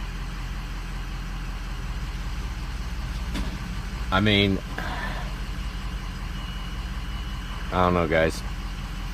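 A 40,000-mile truck engine idles nearby with a steady, even low rumble, while someone speaks briefly twice over it.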